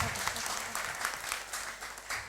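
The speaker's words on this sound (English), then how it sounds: "Congratulations to all our winners. We'll clap for them once more." Audience clapping for prize winners at a closing function and prize distribution ceremony, a continuous wash of many hands heard at a distance, fairly soft and steady throughout.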